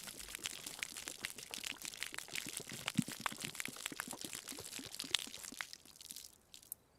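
A thin stream of liquid pours and splashes in DayZ, resembling someone urinating, a faint, steady trickle with small crunchy ticks that tapers off toward the end.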